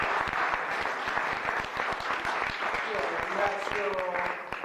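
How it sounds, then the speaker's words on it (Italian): An audience claps steadily throughout at an astronomy conference, a dense and fairly loud patter of many hands, with a voice briefly speaking over it near the end. "Signori, un bel applauso per Salvo."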